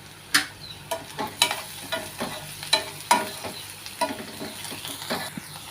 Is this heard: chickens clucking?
no